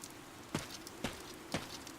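Steady rain falls through a Fire Emblem: Three Houses battlefield cutscene, a soft constant hiss with three sharper thumps spaced about half a second apart, quiet and with no voices.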